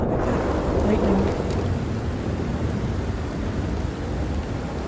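In the video game Red Dead Redemption 2, a thunderstorm over a lake sends steady heavy rain hissing down beneath a low rolling rumble of thunder, constant and enveloping.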